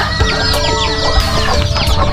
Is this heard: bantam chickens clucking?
yes